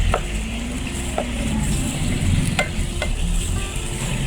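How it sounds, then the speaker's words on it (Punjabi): Ginger, garlic and green chilli paste frying in a pan for a vegetable korma, a steady loud sizzle running throughout with occasional spoon clicks against the pan. "ਹਜੇ ਮੈਂ ਇਹਨਾਂ ਨੂੰ ਵੀ ਅੱਛੀ ਤਰ੍ਹਾਂ ਇਹਦੇ ਵਿੱਚ ਪਕਾ ਲਾਂਗੀ"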